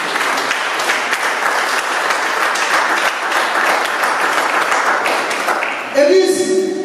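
A church congregation applauds and cheers together in a dense, steady wash of clapping that fills the space, then thins near the end as a brief musical tone enters.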